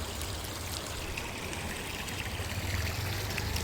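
River water running down from the hills, a steady close rush and gurgle with no break over the whole stretch.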